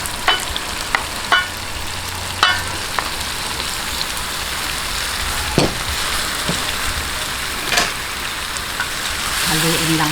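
Pork ribs and pork belly fry loudly in a pan with a dense, crackling sizzle and scattered sharp pops and spatters, close and continuous.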